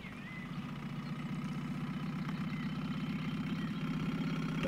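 Boat engine in a fishing video game, running steadily at idle. It gives a constant low, throbbing drone that swells slightly over the clip and plays alone, without any talk.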